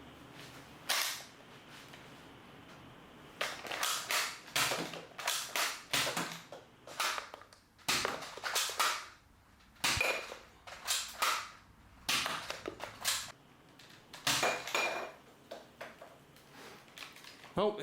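A Nerf Maverick Rev-6 toy blaster fires a series of sharp, snappy shots close by, singly and in quick clusters with short pauses and faint handling clicks between.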